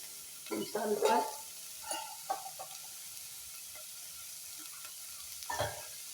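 Tofu sabzi being stirred in a pan, a few soft scrapes and clinks of the spoon against the pot with a low sizzle underneath, quiet and intermittent with pauses between strokes.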